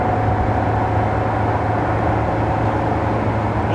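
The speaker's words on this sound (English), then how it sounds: "But this car sounds good. And that's what I like. It has that Ferrari sound." A Ferrari 360 Challenge Stradale with a naturally aspirated engine holds a steady, loud, close drone with a constant low tone and no clear revving, and no one talks over it.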